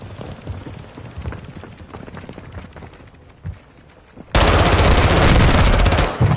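Machine gun fire in DMZ rattles in scattered bursts, then erupts into a loud, sustained, dense burst near the end, with brief quieter gaps between volleys.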